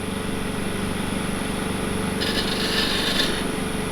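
A wood lathe spins steadily with a spindle gouge cutting the turning workpiece, a continuous mechanical whir with a hissing cutting sound rising briefly near the end, close and alone.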